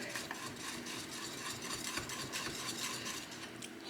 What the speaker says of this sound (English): You're gonna wanna whisk this in good and continue to whisk it until all the cheese has melted and it's nice and smooth.